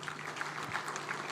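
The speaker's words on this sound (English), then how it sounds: "Please clap for them" At a taxpayers' appreciation awards ceremony, an audience gives steady, moderately distant applause, with a dense patter of many hands clapping at once.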